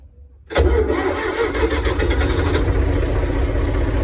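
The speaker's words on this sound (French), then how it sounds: "Voilà, le tracteur est mis en route." An old Renault tractor engine cranks and catches abruptly after a brief quiet moment, then settles into a steady, loud, close idle rumble.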